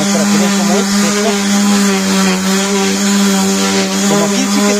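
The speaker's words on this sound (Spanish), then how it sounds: "Todo lo que estamos haciendo es dando una lijada, una lijadita" A power sander grinds steadily at old, cracked clear coat as a surface is prepared for new varnish, a loud continuous whirring hum held throughout with no pauses.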